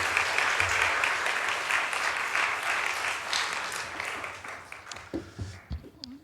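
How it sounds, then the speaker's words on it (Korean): A church congregation at a sermon concert applauds in encouragement, a steady wash of many hands clapping that thins out at the end as a voice begins to speak. "함께 격려의 박수 하겠습니다"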